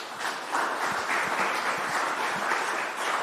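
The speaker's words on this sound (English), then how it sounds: "please can I have a round of applause?" Audience applause at a Commercial Farmers Union congress, a dense, even patter of many hands clapping throughout, without speech.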